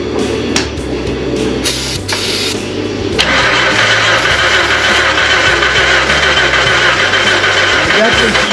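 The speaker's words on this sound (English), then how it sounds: "just see if it would just try to crank a little bit or try to start, which it didn't" A Jeep engine that cranks but won't start, the starter churning in a steady, loud, continuous whir for several seconds without the engine catching, with a voice talking faintly in the background.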